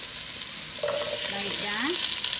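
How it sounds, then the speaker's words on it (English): Vegetables for a chickpea, sweet potato and kale stew hitting a hot pot, giving a steady close sizzle with stirring, while a faint tonal voice-like sound slides through the middle. "Now is the time I'm going to add all my vegetables inside the pot"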